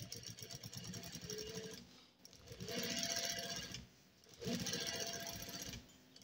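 A sewing machine stitching a front strip on a garment, heard as faint, fast mechanical whirring in three bursts separated by short pauses.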